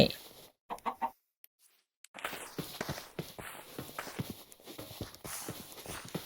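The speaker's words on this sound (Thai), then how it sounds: "เจ้าไก่น้อย" Chickens cluck in a Minecraft survival world, short clucks and scuffling steps mixed with a brief gap of silence, then a busy stream of small clicks and clucks under constant game ambience.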